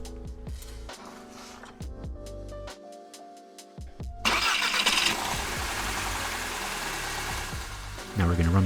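An Audi A3 with a suspect engine cranks and fires, the start bursting in loudly around the midpoint and settling into a steady, close idle, with a brief louder rise at the end.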